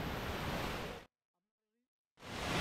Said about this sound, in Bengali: আপনারা ইতিমধ্যেই ঝর্ণার শব্দ শুনতে পাচ্ছেন,